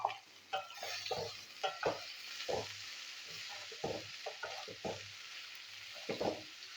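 Finely chopped bitter gourd fries in oil with a steady broadband sizzle, while a utensil scrapes and stirs through the pan in irregular bursts, close and moderately loud with no voices.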